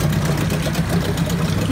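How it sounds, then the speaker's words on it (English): A Mariner 8 HP outboard motor built by Yamaha idles low and steady, a continuous close engine hum with a soft even throb and no revving, running on a 50-to-1 oil mix. "Got the idle set pretty low."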